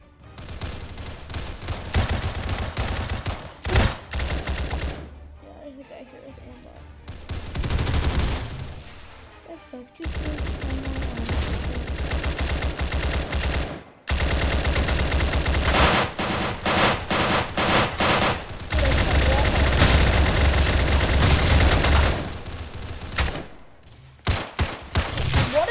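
Automatic gunfire in the Roblox shooter Doors but with guns: loud bursts of rapid machine-gun fire, broken by short pauses and a few near-silent gaps, with long sustained volleys through the second half.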